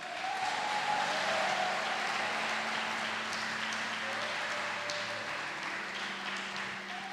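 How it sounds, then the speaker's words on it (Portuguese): A church congregation applauds steadily, a broad, moderately distant wash of clapping that holds for several seconds, with a faint low hum running underneath. "Você pode dar uma salva de palmas para o Senhor?"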